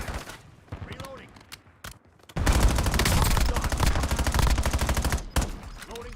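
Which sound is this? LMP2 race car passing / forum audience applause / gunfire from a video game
gunfire from a video game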